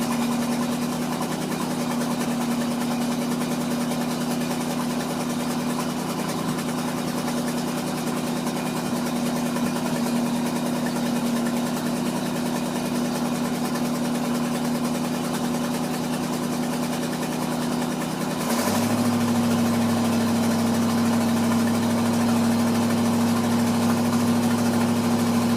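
A carbureted Ford F-600 truck engine idles cold with a steady low rumble and a damaged exhaust pipe, running alone and unbroken; near the end the idle note drops and settles lower.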